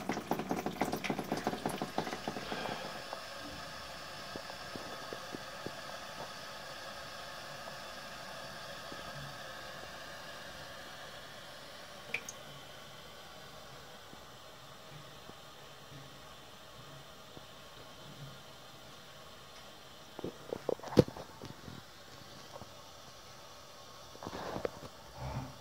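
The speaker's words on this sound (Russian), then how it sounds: "Сливаем, в общем, воду." Water drains from a household water heater tank with a steady, low hiss and gurgle that runs the whole time, with a few brief clanks near the end and no talking.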